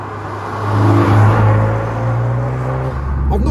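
Honda Civic FK8 Type R engine revving hard and accelerating on back roads in R+ mode, a loud, steady droning note that swells and holds close by with no talk over it.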